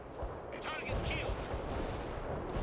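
A rumbling artillery barrage in the real-time strategy game World in Conflict, heavy thuds and blasts rolling continuously and loudly, with a radio voice speaking briefly over the explosions.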